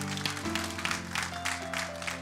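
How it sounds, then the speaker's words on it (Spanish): A church congregation claps during a sermon while a sustained organ or keyboard chord rings underneath, producing scattered bursts of hand claps over the steady musical tone at a moderate, somewhat distant level. "Denle un aplauso a Cristo, porque Él es bueno."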